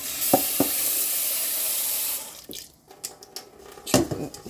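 Tap water runs into a rice pot, a loud hissing stream for about two seconds that then stops, followed by knocks and clatter of the pot being handled, with no talk.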